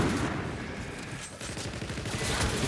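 Call of Duty: Infinite Warfare gunfire rattles in rapid, loud, continuous bursts through the whole stretch, with a brief dip in the middle before the shooting picks back up.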